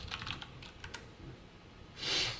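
Typing on a computer keyboard while entering a code value, a quick cluster of light key clicks at the start, then a few more taps and a brief swell of noise near the end.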